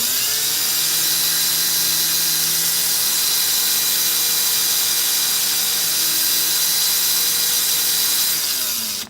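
A loud, steady high-pitched whine of a spinning drill with a file held against it, giving a grinding, rasping edge, running continuously before cutting off at the end.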